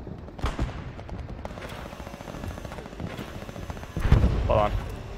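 Gunfire crackles through the woods in Hell Let Loose, scattered shots and bursts heard at middle distance, with a heavier close blast near the end, all under a rumbling battlefield backdrop.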